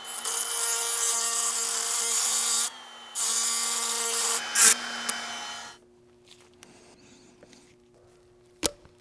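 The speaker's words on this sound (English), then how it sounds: "So I have to Dremel this off." A Dremel rotary tool grinds a part off a V12 BMW 850CSi, a loud, steady high whine running in two long bursts with a short pause between, then cutting out to quiet workshop hum and a sharp knock near the end.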